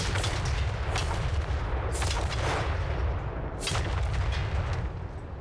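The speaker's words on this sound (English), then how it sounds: "I want to watch or hear those Grand Cannons fire." Grand Cannons artillery fires in Total War: Warhammer 3 in a battle of Cathay, giving heavy booming blasts over a dense rumble of battle, with several distinct cannon reports about every two seconds.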